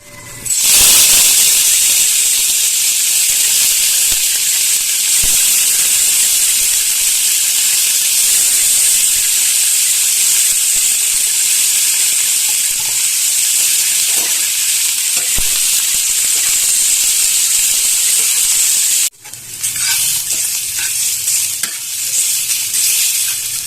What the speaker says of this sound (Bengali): এবার এই তেলে আমি পেঁয়াজ ভেজে নেব